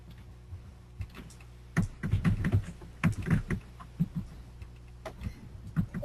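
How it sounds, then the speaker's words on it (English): Typing on a computer keyboard, with bursts of quick clicking keystrokes broken by short pauses, close and clear in a quiet room. "Okay, I can see that you're typing."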